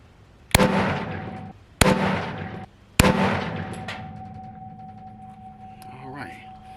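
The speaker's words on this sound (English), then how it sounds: "I felt pretty confident about those 3 shots" A Noveske N6 12.5-inch Mini Recce rifle fires three loud, close shots spaced about a second apart, each followed by a long ringing decay, with faint movement sounds afterward.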